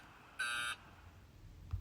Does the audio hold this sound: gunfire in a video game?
no